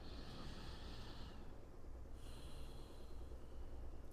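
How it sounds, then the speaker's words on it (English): A person on a yoga mat takes one slow, deep breath in, a soft close airy inhalation that is quiet and breathy under light room noise, with no talking. "deep breath in"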